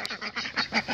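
Ducks quack in a run of short nasal calls, fairly close, several birds overlapping, with no talking.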